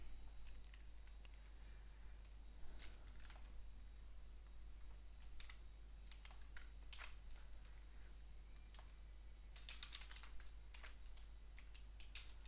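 Typing a pipeline name on a computer keyboard produces scattered, close key clicks in short irregular runs over a constant low hum, with a denser flurry near the end.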